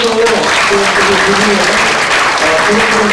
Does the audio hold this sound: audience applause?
yes